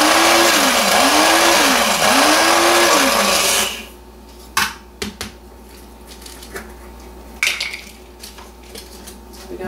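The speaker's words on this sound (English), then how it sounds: "This is a real nice blender." A loud kitchen blender whirs for a few seconds while making lavender sugar, its pitch rising and falling, then cuts off, followed by scattered clinks and knocks.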